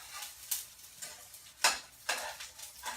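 Food sizzles quietly in a very hot pan, a soft steady crackle broken by several sharp scrapes and clinks of a utensil at irregular intervals, with no talking.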